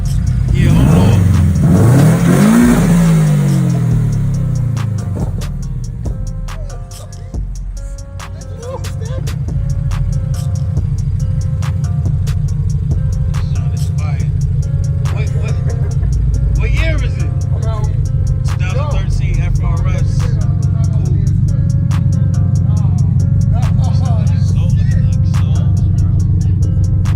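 A car engine revs hard at a rained-out car show, rising and falling in pitch early on, then settling into a loud sustained rumble with people talking over it.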